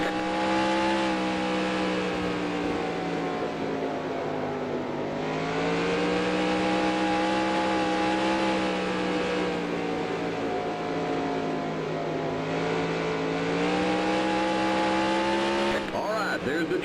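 Stock cars lap an oval in the NASCAR Racing 2003 sim for a PASS North Series race at Oxford Plains, with a loud, sustained engine drone rising and falling in pitch as they work through the turns, a voice talking over it.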